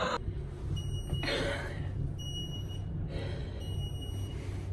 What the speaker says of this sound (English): Our elevator beeps on the way up to our hotel every single